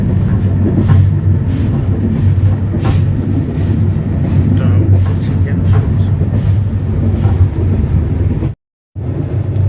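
The Kurigram Express rumbles along at night with a steady, loud, low roar of wheels and carriage noise, briefly dropping out near the end.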